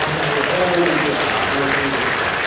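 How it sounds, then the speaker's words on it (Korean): A church congregation at a young couples' worship service breaks into dense, continuous applause welcoming first-time visitors, with a voice and faint tonal background sound running underneath. "여러분 박수로 환영해 주시기"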